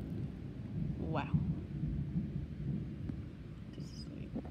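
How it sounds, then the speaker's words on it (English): Low rumbling thunder rolls through a severe lightning storm, a continuous deep grumble with a faint whistle-like sound partway through. "This is like the biggest bad storm ever."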